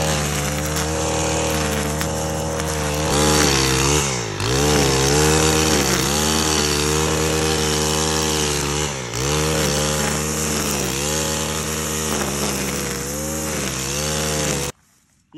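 A gas weed whacker cuts through weedy switchgrass, its engine screaming loud and close for about fifteen seconds with a few brief dips in pitch as it bogs into the growth, then cutting off.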